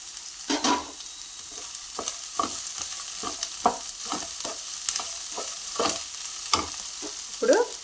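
Chopped onions and curry leaves sizzle in hot oil, with repeated sharp stirring scrapes and crackles against the pan over a steady close frying hiss, no voices.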